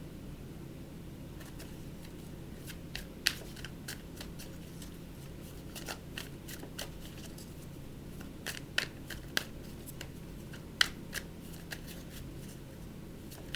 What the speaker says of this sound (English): This is pretty much me just dropping some cards.